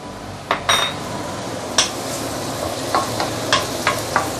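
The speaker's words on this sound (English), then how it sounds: "I'm going to saute the garlic." Garlic sautéing in a wok for char kuay teow fried rice noodles, a steady sizzle of frying broken by several sharp metallic scrapes and clinks of a spatula stirring against the pan, fairly close with no talking.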